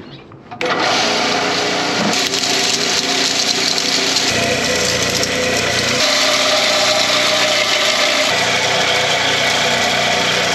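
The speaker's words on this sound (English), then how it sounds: "we're gonna run everything through the mill, and I'm gonna show you what that looks like." A small mill grinds limonite ore for gold prospecting, starting abruptly and running as a loud, steady motorised whir and rattle for about ten seconds, close by and with no talk.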